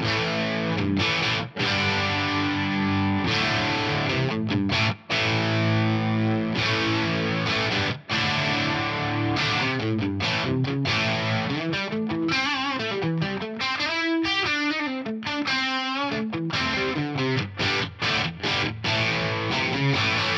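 Distorted electric guitar through a Friedman BE V1 Fat amp with a dual pitch detune effect, thick sustained chords and riffs giving a wide, wavering chorus-like shimmer, loud and continuous with brief gaps and no talking.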